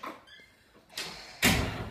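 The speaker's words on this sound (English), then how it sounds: "Shut the door." A door is pushed shut, first a sliding rush of movement and then a sharp, close slam that rings out briefly before fading.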